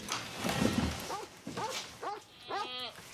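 A dog gives several short, whiny barks and yelps at moderate distance, amid a muffled indoor background rumble.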